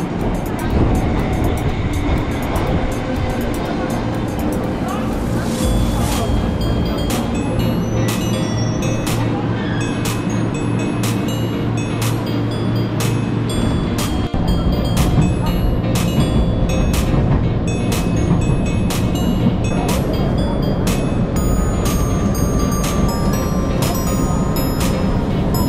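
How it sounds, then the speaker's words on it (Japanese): A Japanese local train rumbles and pulls away from a station in Ashikaga, Tochigi, with steady mechanical noise, a low engine drone that fades after several seconds, and rhythmic clicks continuing throughout. "まもなく発車します。"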